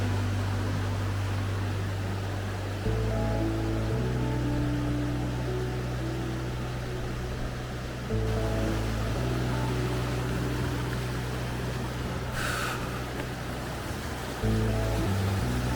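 A small alpine-like river rushes through a canyon valley near Trieste. Its steady broadband roar of flowing water continues throughout, close and loud, with no voices.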